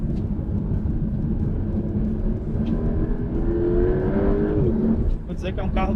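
The engine of a Porsche 911 Turbo S 992.2 with 711 hp revs hard on a track, holding a loud sustained drone that rises in pitch and then drops off near the end.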